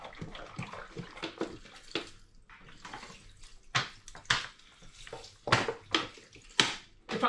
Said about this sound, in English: I'm going to add 4 litres of spring water into this pan.